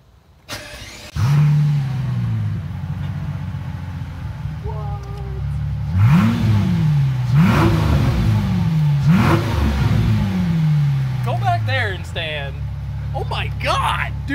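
A Mercedes S600 with no exhaust fitted cranks, catches and starts, then settles into a loud raw idle broken by three rising revs in a row, with people talking over it toward the end.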